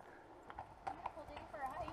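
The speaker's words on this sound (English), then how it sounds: "One of you guys has a really big horse." A large horse walks along a trail by Junction Creek in Kananaskis, its hooves giving soft, uneven clip-clops close by, with faint voices murmuring in the background.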